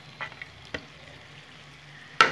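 Spice masala with tomatoes for gandharaj chicken sizzles faintly in a pan, a quiet steady fry broken by a few soft stirring clinks and a sharper scrape at the end.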